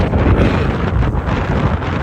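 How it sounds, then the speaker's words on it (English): Strong wind on a mountainous volcano crater on Hawaii's Big Island buffets the microphone with a loud, continuous roaring rumble, gusting unevenly throughout. "It's windy."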